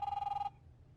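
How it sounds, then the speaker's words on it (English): A single electronic telephone ring burst in the video game The Wolf Among Us, a bright warbling trill lasting about half a second before cutting off into quiet room tone. "One of them answer the phone."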